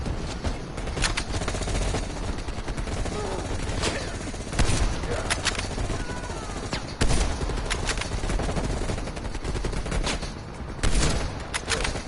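Gunfire in Call of Duty Cold War, with dense rapid bursts and sharp individual shots cracking throughout a tense firefight, loud and close over game ambience, with a player talking now and then.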